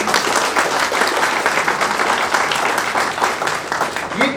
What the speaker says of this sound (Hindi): आपके और हमारी तरफ से जोरदार तालियां हो जाए।